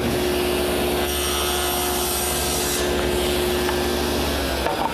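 A table saw cuts a tenon shoulder with the workpiece guided by a miter gauge against a stop, making a loud, steady whining buzz that holds evenly throughout and stops abruptly at the end.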